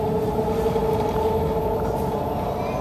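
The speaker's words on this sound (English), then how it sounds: "Here comes the 9-car Pittsburgh point train that I'm going to get on now" A 9-car BART Pittsburg-bound train approaching on a slight grade, a steady mid-level rumble with sustained tonal hum, continuous and without talk.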